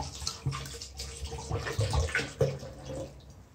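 Water pours into a glass for mint juice in a home kitchen, a short run of splashing and trickling with a few distinct gulps and bursts, close and moderately loud, with no talking.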